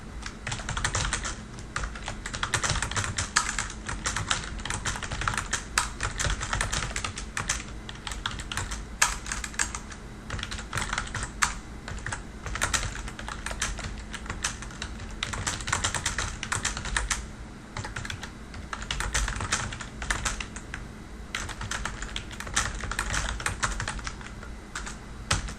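Rapid continuous typing on a computer keyboard, a close, busy stream of key clicks with irregular bursts and no talk.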